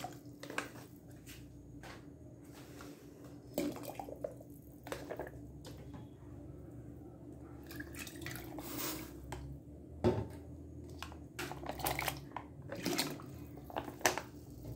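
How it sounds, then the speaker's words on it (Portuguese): Water is added to a tomato sauce sachet to rinse out the remaining sauce, giving faint squishing, dripping and sloshing bursts at irregular intervals over a quiet background, without talk. "Aí a gente coloca um pouquinho de água aqui pra reaproveitar o que tem lá dentro"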